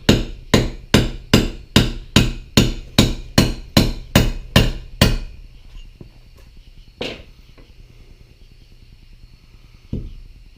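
Hammer blows strike a big chisel while a rear seal is driven out of a Ford F250, about ten sharp metallic whacks in a steady rhythm. Quieter scattered taps and one lone strike near the end follow.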